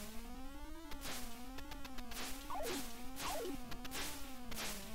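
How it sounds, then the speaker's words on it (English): A swarm of bees in the Donkey Kong 3 video game: an electronic buzzing drone with wavering pitch, cut by repeated quick descending chirps and sweeping synthesized swishes, continuous and fairly loud with no voices. "he's rallying up all the bees"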